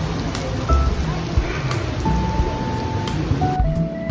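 Steady rain falls at night in Iloilo, a dense, loud hiss of drops on surfaces heard close throughout, with faint tonal hums in the background.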